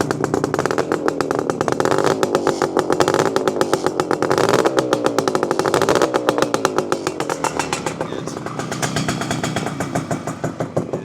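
A restored 1974 Suzuki T500 Titan's 500cc two-stroke twin idles and revs close by, a loud buzzing, crackling exhaust with rapid popping pulses that rise and fall with the throttle, no voices over it.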